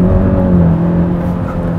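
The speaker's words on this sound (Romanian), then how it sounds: "Motorul se aude spectaculos și răspunde foarte bine" Honda Civic engine revs hard toward 3000-4000 rpm, a loud, steady, close droning roar heard from the car with no talk over it.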